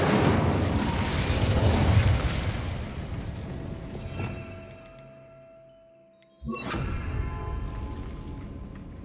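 Incendio fire spell cast in Hogwarts Legacy: a loud, sustained roaring whoosh of flame that swells and then fades, breaks off into near silence, then a fresh rumbling burst resumes.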